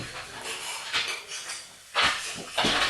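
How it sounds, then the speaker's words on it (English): Knife and fork scraping and clinking against a plate while slicing cooked chicken for a summer salad, with a few sharper clatters of cutlery on the dish. "I'm just going to slice it."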